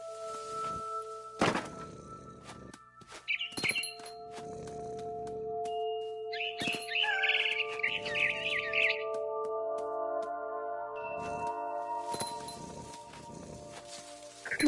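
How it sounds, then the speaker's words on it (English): A barn swallow in a PS4 video game gives short, bright chirping bursts in a couple of clusters, set against soft thumps and sustained tonal game music in a sparse, quiet scene. "Then I heard chirping outside my window. It was a barn swallow going back to her nest."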